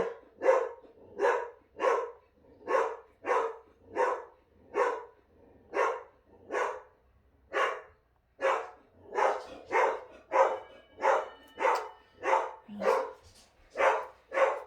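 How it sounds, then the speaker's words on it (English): A dog barks indoors in a long, steady run of sharp barks, about one or two a second, fairly close and loud with no talk. "My dog's gonna start barking."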